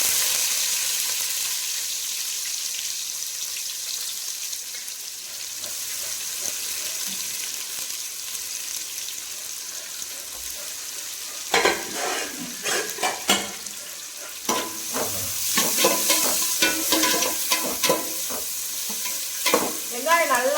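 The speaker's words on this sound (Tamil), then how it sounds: "வெங்காயம் போட்டுக்கலாம்" Onions sizzling and frying in a pan for a mushroom biryani, a steady hiss that turns into louder crackling and spattering about halfway through, with occasional stirring scrapes.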